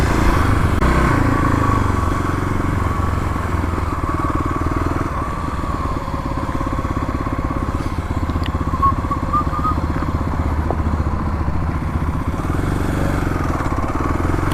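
A Kawasaki KLX351 dual-sport motorcycle rides over stairs and gravel, its single-cylinder engine droning loud and close with steady rumbling revs that dip briefly before picking back up.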